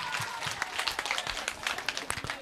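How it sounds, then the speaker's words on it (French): An audience applauds the school principal at a workshop gathering in Dapaong, a dense, steady burst of clapping from many hands that holds for the whole stretch without a break. "On va applaudir monsieur le proviseur pour ces mots"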